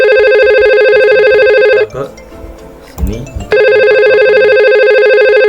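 A simulated IP phone rings in Cisco Packet Tracer, a steady electronic ringtone pulsing loudly, broken midway by a short stretch of speech before the ring resumes.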